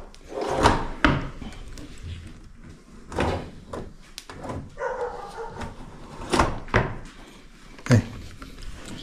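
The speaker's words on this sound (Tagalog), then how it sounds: "ang mga drawer, hihilahin mo na lang" Modular kitchen cabinet drawers without handles being pulled open and pushed shut, producing several separate sliding thumps and knocks nearby, alone without talk.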